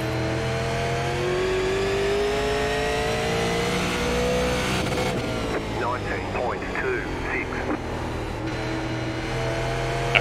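A Super Late Model race car engine in iRacing at Thompson Speedway holds a steady, buzzing drone at high revs, with someone talking over the second half.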